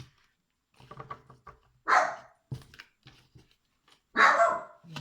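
A dog barks in a few loud, sharp bursts separated by pauses, with quieter yips and whimpers between them, close by.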